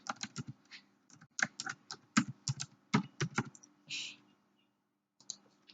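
Quick, uneven clicks of typing on a computer keyboard, close and fairly quiet, come in short bursts with brief pauses between keystroke runs.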